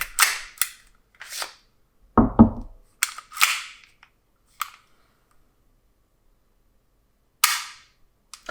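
An SSP18 airsoft gas pistol fires several sharp, snappy shots separated by pauses, close and loud, with a short lower-pitched thump mixed in among the cracks and no speech.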